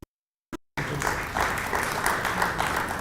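An audience at a government budget vote applauds a farmer: after two brief blips and a short silence, dense clapping rises and holds steadily to the end, with no one speaking over it.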